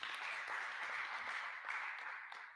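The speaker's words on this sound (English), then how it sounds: "Can we give another round of applause," Audience at a conference applauds steadily, a dense wash of many hands clapping that keeps going throughout and begins to taper slightly toward the end.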